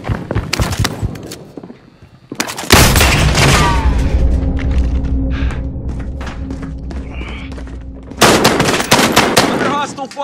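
Loud gunfire and booming blasts from the Call of Duty video game: rapid bursts of automatic fire, then a long, dense barrage and a final volley.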